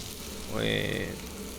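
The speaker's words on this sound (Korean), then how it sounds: "일단은 튀기듯이 이제 볶습니다." Steady hissing sizzle of meat and garlic frying in hot lard for jajangmyeon, with a brief higher squeak rising over the crackle midway.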